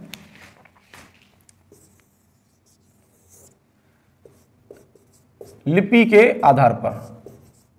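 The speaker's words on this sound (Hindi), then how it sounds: "तो वो हम यहां लिख लेते हैं" Faint, sparse scratching strokes of writing on a board in a history classroom lesson, quiet and intermittent before a voice starts speaking near the end.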